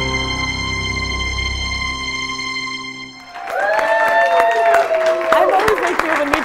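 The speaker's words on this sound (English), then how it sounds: "I'm like, everyone else is clapping." Studio audience clapping on a live morning TV show, breaking out midway after a sustained musical tone and continuing as a dense, moderately loud patter of hands with some voices underneath.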